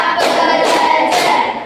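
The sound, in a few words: children clapping in a counted clapping game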